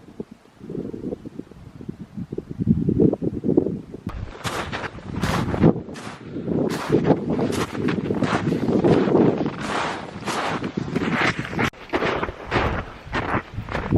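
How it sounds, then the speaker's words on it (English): Strong, frigid wind at an off-grid tent camp buffets the microphone in rough, roaring gusts, first a low rumble and then sharper bursts coming one after another. "Yeah, it's definitely windy."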